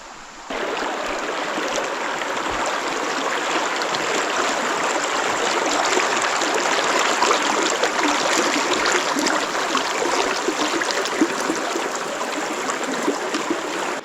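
A mountain river stream flows steadily near the mossy bank, a constant broadband rush of water that stays close and even throughout with no voices.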